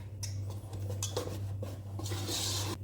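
Salt being mixed by hand into flour for croissant dough: soft scraping and clinking of a utensil against a bowl, repeated in short bursts over a steady low hum.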